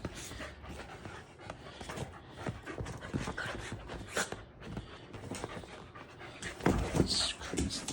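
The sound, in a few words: dogs panting and whimpering while playing with a toy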